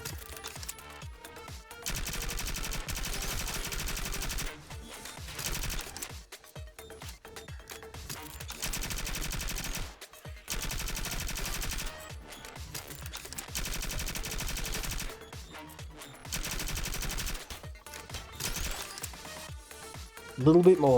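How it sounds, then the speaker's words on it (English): Bursts of SMG fire from the game Cybercorp come in several long stretches of rapid automatic shots separated by short pauses. "This dinky little SMG just isn't doing the job."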